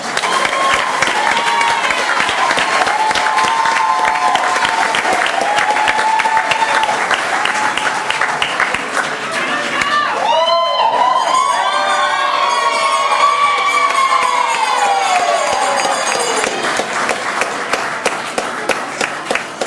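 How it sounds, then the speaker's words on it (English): Loud, sustained applause and cheering from a large crowd, with whoops and shouts rising over the clapping throughout, at a school board of education meeting. "Let's give him one more big round of applause."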